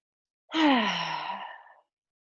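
A deep breath exhaled slowly during a metal-themed yoga flow, one long, fairly loud sighing release lasting over a second before fading into silence.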